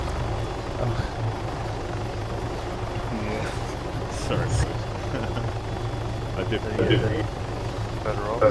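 Helicopter engine in a video game, a Ghosthawk or Hummingbird: a steady low rotor and turbine hum runs throughout, with a player talking over it and faint game sounds popping in.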